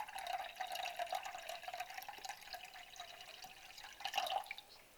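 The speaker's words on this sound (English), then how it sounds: "we need 4 cups of water, and we're gonna add that now" Water poured into a pot for poutine gravy, a continuous trickling, splashing stream running steadily close by, swelling briefly near the end.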